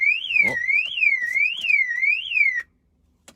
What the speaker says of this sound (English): Apologies, car alarm going off.